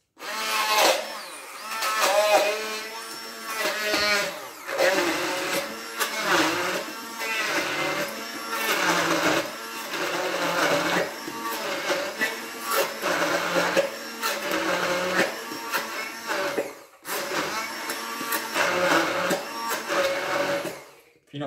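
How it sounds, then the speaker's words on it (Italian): A blender whirs in pulsing bursts, loud and close, its pitch shifting as it churns a thick pistachio pesto mixture, with brief pauses between runs. "Con il mio frullatore vado poi a emulsionare il tutto."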